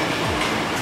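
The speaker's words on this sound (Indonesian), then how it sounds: "Memang pasti banyak kereta lewat jalur-jalur ini." KRL commuter train rolling across the 1917 Bukit Duri railway bridge, a continuous loud rumbling clatter of wheels and rails for the whole short span, with no voices.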